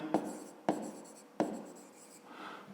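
A pen writes on paper during a fifth-grade math exercise, three sharp taps of the pen landing at intervals, each followed by soft scratching strokes, quiet and close.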